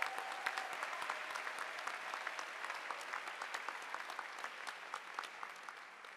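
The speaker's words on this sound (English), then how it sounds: "Let's give the 3 speakers another round of applause." A 2023 commencement ceremony audience gives a steady round of applause, dense continuous clapping from a large crowd heard at a distance and slowly fading toward the end.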